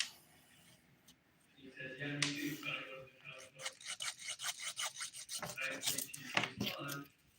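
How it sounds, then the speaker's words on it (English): A 180-grit nail file rasps along the nail edges in quick, close strokes, with short pauses between bursts, while a person talks over part of it. "I'm going to use the 180 grit side now. The 100's too rough, just to shape my edges."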